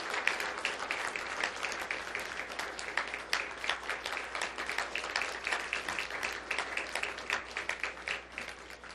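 An audience at a Korean church service claps together, a fairly soft but lively round of many hands with distinct sharp claps, pulsing unevenly and continuing to the end.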